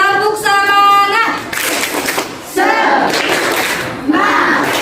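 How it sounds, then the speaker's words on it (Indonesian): Classroom students performing a rhythmic clapping cheer, loud chanted voices with bursts of group clapping and shouts in short phrases, a child's sung tone at the start. "kita tepuk semangat dulu ya"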